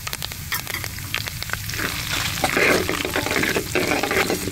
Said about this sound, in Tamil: ஜீரகம் சேர்த்துக்கிறோங்கண்ணா.